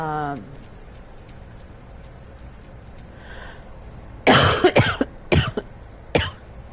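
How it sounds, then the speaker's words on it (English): A quiet stretch gives way to a burst of harsh, forceful asthmatic coughs, several in quick succession, then a final cough after a pause, loud and close. "So if like you hear me severely coughing,"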